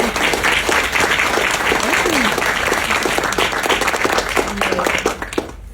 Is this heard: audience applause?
yes